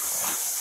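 Boiling water hisses in a video game, a short, bright burst of steamy spray that holds steady for under a second.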